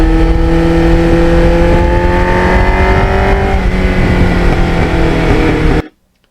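A 1989 Kawasaki Ninja 750R motorcycle riding steadily, its engine droning loud and continuous with a slight rise and fall in pitch before cutting off abruptly near the end.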